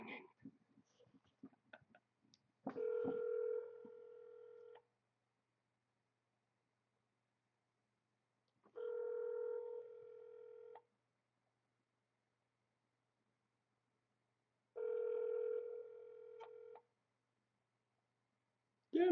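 A phone ringback tone repeats three times, each ring about two seconds long with long silent gaps between, heard faintly after some soft background noise.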